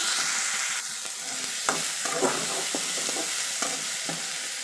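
Curry leaves sautéing in oil in a sambar pan, a steady close sizzle broken by several scraping stirs of a spoon, no talking.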